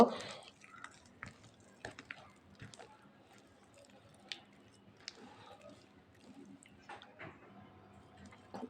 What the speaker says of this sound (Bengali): সব কিছু একসঙ্গে আমি ভালো করে মেখে নেব।